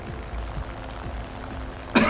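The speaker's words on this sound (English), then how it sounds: "sorry for my coughing there" A man coughs a few times while gaming with mouse head-tracking for a tank battle, the coughs soft and close, followed by a sharp louder burst at the end.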